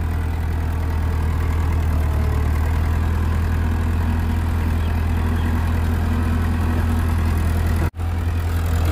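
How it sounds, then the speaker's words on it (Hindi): A 60 HP Euro 60 tractor pulling a three-bottom plough in a field, its engine running loud and steady with a deep continuous drone throughout and a brief dropout near the end. "ये देखिए यूरो 60 3 के पलाऊ में चलता हुआ, ड्राइवर फुल एंजॉय करता हुआ,"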